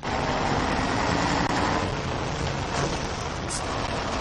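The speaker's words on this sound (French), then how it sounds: "des camions transportant de la marchandise circulent dans les deux sens" Trucks loaded with goods roll along a national highway in both directions, a steady, loud broadband roar of engines and tyres filling the whole stretch with no pause.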